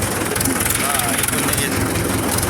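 A farm tractor engine runs in a field being prepared for tomato rows, a loud steady mechanical drone that continues without a break throughout.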